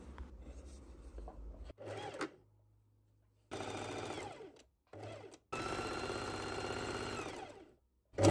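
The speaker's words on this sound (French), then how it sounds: "Vous allez donc coudre l'ourlet tout autour du crop top." A sewing machine stitches the hem of a fabric crop top about 8 mm from the edge, running in several whirring bursts of varying length separated by brief stops, close and steady, with no talking.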